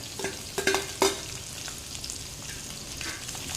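Small onions and curry leaves sautéing in hot oil, stirred with a few sharp clinks of the spoon against the pan at the start over a steady close sizzle.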